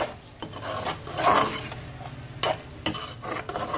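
Green chillies go into a mutton koyla karahi sizzling in a pan, with close frying hiss, stirring scrapes against the metal and a few sharp clinks.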